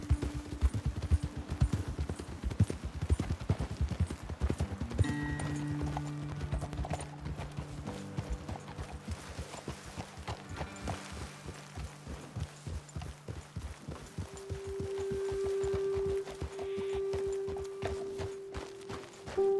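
Horses walk in Red Dead Redemption 2, their hooves clip-clopping in a steady, close, rhythmic beat throughout, with game music and tonal ambience underneath and a sustained tone near the end.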